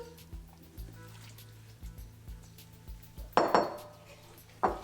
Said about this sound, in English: Now we'll put the shrimp in.